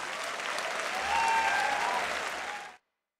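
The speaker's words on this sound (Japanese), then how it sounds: "勝利したニー選手に大きな拍手をお願いします。" Applause from the audience at a 2005 Tekken 5 fighting-game tournament rises into a dense, loud ovation that swells mid-way and is cut off abruptly near the end, with no voices over it.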